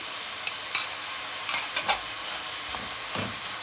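Tomato and pepper paste frying with chopped onion in a pot for okra soup with meat, a soft continuous hiss with a few sharp spoon clinks and scrapes scattered through it.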